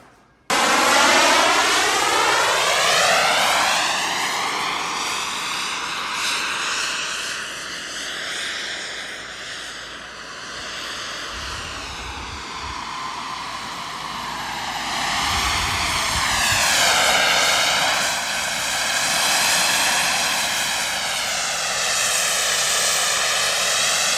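A J-10 fighter jet flies fast and low overhead with a loud, continuous roaring whine that rises and falls in pitch as it passes, filling the whole stretch without voices.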